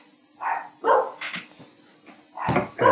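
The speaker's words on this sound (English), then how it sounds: "Excuse the dogs, they're the real thing," Dogs bark in the background outdoors in rural Quilpie, a series of several sharp barks and yips at moderate distance with gaps between them.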